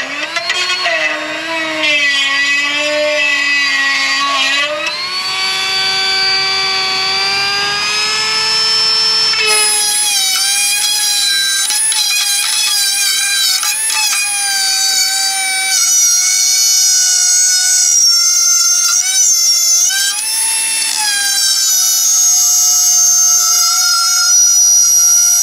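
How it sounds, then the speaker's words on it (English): A Dremel rotary tool digs old sealant out of an engine groove with a loud, high whine that shifts in pitch as the bit bites and eases, running steadily and close. "I'm gonna try to go in with the Dremel tool to dig out the rest of that sealant."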